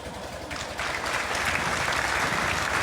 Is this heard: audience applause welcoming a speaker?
yes